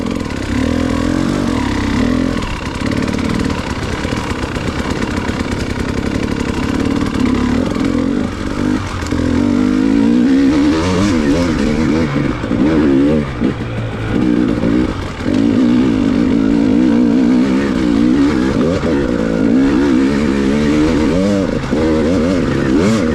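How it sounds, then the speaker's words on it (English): A 2019 dirt bike rides a singletrack trail at Goshen, its engine loud and close throughout, rising and falling with constant revving and throttle changes, with no talking. "Man, this bike's working good."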